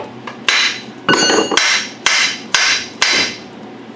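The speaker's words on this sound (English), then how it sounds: "we're just going to use a brass hammer, pound that out" A brass hammer strikes metal dowel pins in a steady series of sharp, ringing blows, about six loud hits spaced roughly half a second apart.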